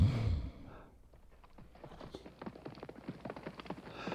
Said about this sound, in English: The clippity-clop of horses' hooves in the distance.